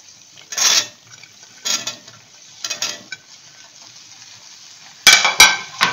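Okra fries in oil with boiled potatoes in a pan and is stirred over a raised gas flame: short bursts of sizzle and spatula scraping come at intervals, ending in sharper clattering strokes, with no talk.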